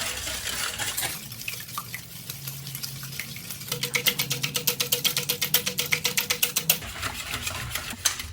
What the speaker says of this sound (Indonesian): 7 butir telur kita kocok, nggak usah pakai mixer